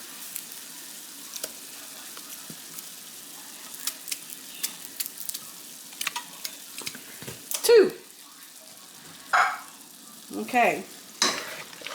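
Cream of mushroom soup being stirred into beef stroganoff in a pan, soft scraping and thick wet squelching strokes in irregular bursts over a low sizzle, with a brief spoken word.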